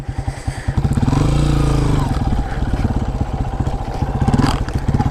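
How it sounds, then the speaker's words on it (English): A Honda CRF230F dirt bike rides along a dirt trail, its engine loud and close with a steady throbbing drone, revving up and easing off with clattering and thumps from the terrain, and no talking. "I want to record the final moments of this bike touching the trail"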